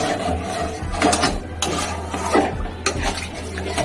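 A spoon scrapes and stirs through prawn curry with cashew and poppy seed paste in a metal pan, making steady close rubbing and clinking sounds with occasional sharper scrapes.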